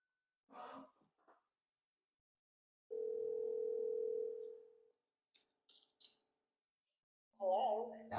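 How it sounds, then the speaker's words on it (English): Steady ringback tone from a speakerphone while a call to a mobile connects, one sustained tone lasting about two seconds, with brief breaths and small clicks around it before a voice answers. "I hear it ringing on here."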